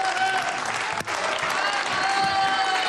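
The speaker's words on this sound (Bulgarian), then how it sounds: "Аплодисменти за Влади!" Continuous studio audience applause on a Bulgarian Deal or No Deal game show, dense and steady throughout with one momentary dip, a bright music bed playing underneath.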